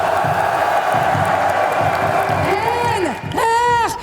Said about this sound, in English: this crowd is amazing